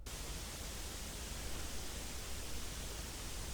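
Noise shaped by EQ matching into a frozen, static version of an earlier sound: a steady, faint wash of broadband hiss with a soft low rumble, unchanging from start to finish.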